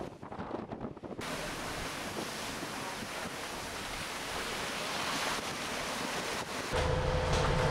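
High ocean waves surge around a boat at sea off New Guinea, a continuous rushing wash of water and wind buffeting, steady and moderately loud with a low rumble swelling near the end.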